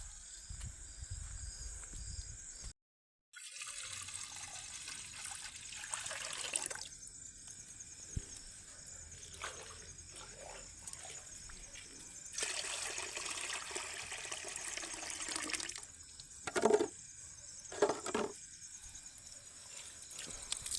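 Water splashes and trickles steadily into a basket for a dog to drink, with a brief pause and a couple of sharper splashes near the end.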